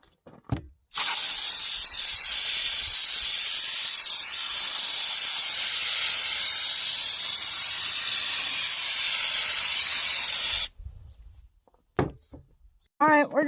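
Spray coating hisses out of a shaken aerosol can onto a vintage 1953 Ford F100 speaker box in one loud, steady burst of about ten seconds, followed by brief handling noises.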